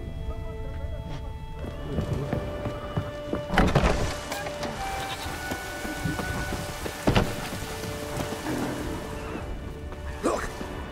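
Rain falling in The Witcher 3 video game, a steady patter on surfaces with low rumbles of thunder and a few sharp thuds, running under spoken dialogue.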